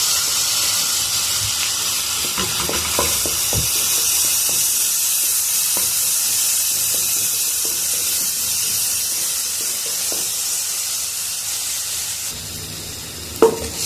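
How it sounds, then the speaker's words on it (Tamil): Ginger garlic paste sizzles in hot oil for a chickpea masala, making a loud, continuous hiss close by, with occasional stirring clicks and a brief bump near the end and no one talking. "இஞ்சி பூண்டு பேஸ்ட்டு போட்டுக்கோங்க"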